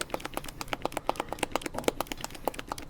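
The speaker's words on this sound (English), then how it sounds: "I'm actually pushing the mousse really firm into the bottom of the bowl" Guinea fowl mousse is worked firmly against the bottom of a bowl, producing a rapid, regular series of soft slapping, squelching taps, close and fairly quiet.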